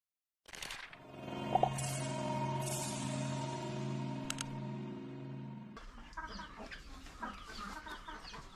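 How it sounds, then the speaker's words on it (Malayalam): Native hens cluck and call nearby on a farm for several seconds, layered tonal clucking with a few sharp squawks, giving way to rustly background noise. "അവനവിടെ കോഴികളുണ്ട് നാടൻ കോഴികളുണ്ട്"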